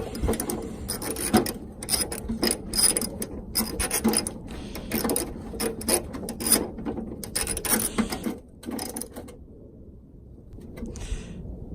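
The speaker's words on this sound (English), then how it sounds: "Line the threads up. And bolt her on down." A hand ratchet tightens a bolt on an RX-8 hood damper, giving rapid close metallic clicking in uneven bursts that taper off near the end.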